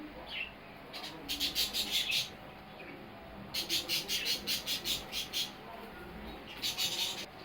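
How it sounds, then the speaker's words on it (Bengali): A pair of Lahori pigeons with two chicks gives bursts of rapid, high, squeaky chirps in quick runs, separated by short quiet gaps and heard up close. "এই যে দুইটা জোড়া বাচ্চা সহ এক জোড়া লাহুরি কবুতর।"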